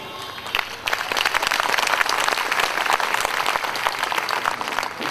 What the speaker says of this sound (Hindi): जितनी घनघोर तालियां आपने बजाई हैं